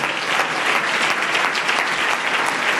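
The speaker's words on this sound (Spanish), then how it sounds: "Dele ese aplauso a Jesús en esta noche" Church congregation applauding together during a worship service, a dense, loud, continuous roar of many hands clapping at once with no break.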